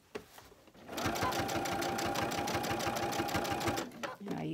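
A sewing machine stitching a baby burp cloth runs in one steady, rapid burst of close mechanical whirring and clatter for about three seconds, with brief handling sounds before and after.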